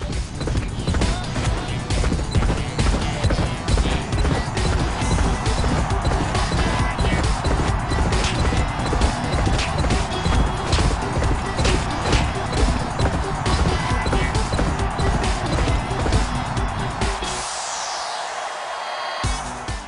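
Racehorse hooves pound in a fast, continuous gallop in the PlayStation 3 racing game Champion Jockey G1 Jockey and Gallop Racer, loud and dense under crowd-like noise before cutting off abruptly near the end.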